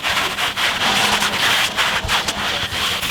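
A brush scrubs cleaning foam into car interior upholstery, giving a continuous close, rough rubbing with quick back-and-forth strokes and no talking.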